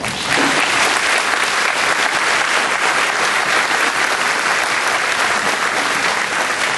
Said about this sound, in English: Let's give these a round of applause.